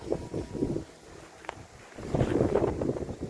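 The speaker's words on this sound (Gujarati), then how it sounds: "પવન બહુ છે." Strong gusts of wind buffet the microphone in rumbling bursts outdoors in a garden plot, easing briefly in the middle before blowing hard again; no clear speech.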